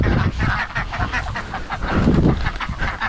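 Runner ducks flapping and quacking, a loud, dense chorus of overlapping quacks and honks with wingbeats, close by and continuous.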